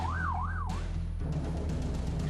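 An ambulance siren wails in a rising and falling sweep, then cuts off into traffic noise and engine rumble near a hospital mortuary in Malang, loud and close with no voices.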